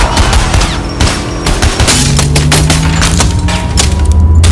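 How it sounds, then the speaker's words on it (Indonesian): A film scene in which Marco and Pug's gang open fire in loud, dense bursts of rapid gunfire with sharp cracks and impacts, over a low rumbling engine drone, no talking. "rentetan tembakan dari kelompok Marco dan Pug yang mencoba menghadang mereka"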